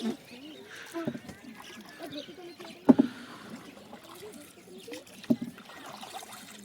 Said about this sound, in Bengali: আমি নৌকাটাকে চালিয়ে নিয়ে যাচ্ছি